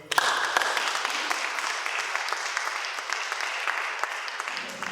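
A seated audience applauds steadily to welcome poet Rachel Eliza Griffiths at an evening reading, a dense, even wash of clapping that holds for several seconds and then cuts off, with no speech.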